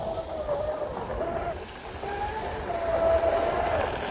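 Proboat UL-19 RC boat with a 6s Spektrum battery running on water, a thin high electric whine rising and falling as it passes at a distance, over soft background noise.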